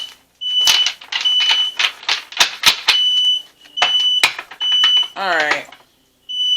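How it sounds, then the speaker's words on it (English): A smoke-style fire alarm chirps in repeated high steady beeps throughout, running under and between continuous talking from a nearby voice. "so that's probably why the fire alarm going off"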